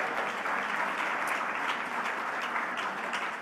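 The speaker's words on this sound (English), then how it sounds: "You can applaud there if you'd like," Audience applause at the 2022 Rolex LPGA Awards, a steady, even wash of clapping from a large indoor crowd that continues at a constant level throughout.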